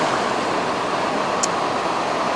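Ocean waves at the seaside around seven in the evening, a steady unbroken wash of surf close by, with no voices over it.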